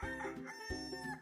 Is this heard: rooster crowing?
yes